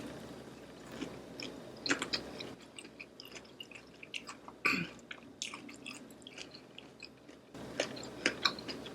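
Close, quiet chewing of crispy fried vegan shrimp, with irregular crunches and wet mouth clicks scattered over several seconds; no speech.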